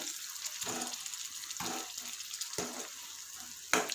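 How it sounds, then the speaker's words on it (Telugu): Eggplant pieces fry in oil in a pan as they are turned one by one, a close, moderate hissing sizzle that swells in repeated bursts with each flip, without any voices. "ఇలా ఇలా తిప్పుకుంటే రెండు వైపులా బాగా కాలుతాయి ఉడికిపోతుంది మంచిగా ఆయిల్లోనే"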